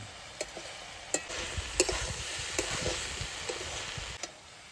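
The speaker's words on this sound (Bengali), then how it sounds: "আলু ভাজার মধ্যে একটু পেঁয়াজ কুচি দিছি খেতে বেশ ভালো লাগবে" Potatoes fry with chopped onion in a pan, a soft continuous sizzle broken by sharp, repeated clacks of a spoon stirring and scraping every second or so.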